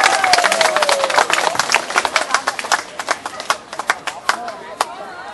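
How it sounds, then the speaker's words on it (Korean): Scattered clapping from an audience at a pansori performance in Jeonju Hanok Village rises and falls with crowd murmur, sharp claps ringing out loosely rather than in steady rhythm. "여러분 큰 박수 부탁드립니다"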